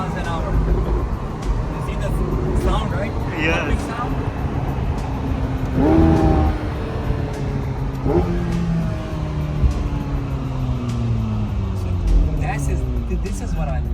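A 2025 McLaren 750S engine revs inside the cabin as the driver shifts gears manually, with a sharp break and burst around a shift midway and rising engine pitch afterwards, while people talk throughout.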